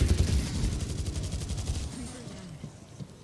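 An automated turret in the World War Z shooter fires a rapid burst of gunfire that fades out after about two seconds, with faint voices underneath.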